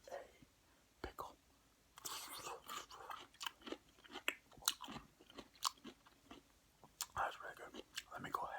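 Close, quiet bites and chewing of a turkey BLT sandwich with vegetables, horseradish sauce and a pickle, with crisp crunches and moist mouth sounds coming in irregular bursts, alongside soft whispering.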